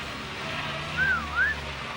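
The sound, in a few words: whistling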